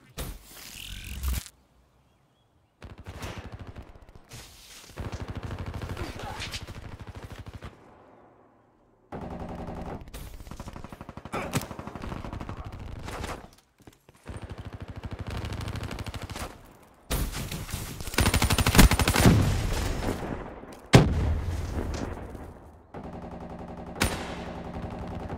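Bursts of automatic gunfire and single shots crack loudly in Call of Duty: Black Ops 3, rapid volleys separated by short silences and mechanical clatter, growing more intense toward the end.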